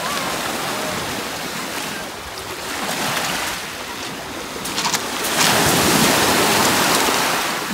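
Sea waves wash over a rocky pebble beach at Agay, a loud continuous rushing surf that swells and builds toward the end.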